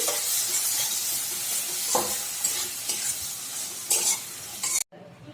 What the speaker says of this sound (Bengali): সুন্দর করে কষিয়ে ভেজে নামিয়ে নেব